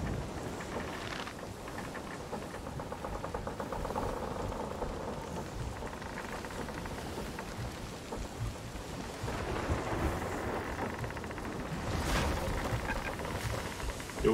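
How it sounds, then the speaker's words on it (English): Stormy weather in the pirate video game Sea of Thieves: rain pattering on a ship's deck with rolling thunder, swelling to a loud crack near the end, continuous and fairly near. "That was a lightning strike on the deck."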